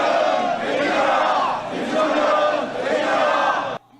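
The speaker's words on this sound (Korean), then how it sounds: "윤석열 정권을 규탄하는 목소리가 거리에 울려 퍼집니다" A street protest crowd in Jeonbuk, South Korea, rallying against the Yoon Suk Yeol government, shouts slogans in loud unison; the massed voices rise and fall in waves for several seconds before cutting off abruptly.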